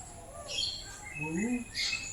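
Birds call in the open at Mukundra tiger reserve, several short chirps and whistled notes rising and falling over steady outdoor background noise, with a voice faintly present.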